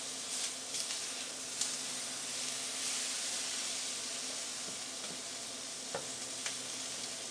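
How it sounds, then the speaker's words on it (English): Beans simmering down in a copper pan, their excess liquid bubbling away in a soft, continuous sizzle with faint stirring and scraping. A few small pops and clicks stand out, all fairly quiet and close, with no voices. "It's kind of had a lot of liquid in the beans, so I'm going to let it cook down a little bit."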